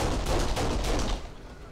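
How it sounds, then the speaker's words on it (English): Rapid burst of heavy gunfire from the video game Kane & Lynch: Dead Men, loud and dense for about a second before tapering into a softer trailing rumble. "he can shoot through fucking everything, this guy"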